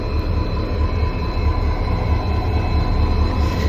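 A Panchaganga Express train with two diesel banker locomotives rumbles steadily and loudly, with a constant low engine drone and a faint high wheel whine throughout, no voices.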